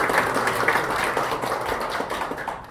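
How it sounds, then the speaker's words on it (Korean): An audience at a National Assembly welfare forum gives steady, sustained applause for an introduced speaker, a dense wash of many hands clapping evenly throughout. "힘찬 박수를 부탁드립니다"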